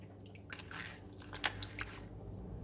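Water poured into a pot of coconut milk soup for mie gomak, a quiet liquid trickle with soft drips and splashes, faint and close, with no talking.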